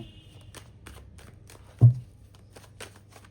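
A tarot card deck is shuffled by hand in a series of quick crisp riffles and flicks, close and fairly quiet, with one soft thump midway and no talking.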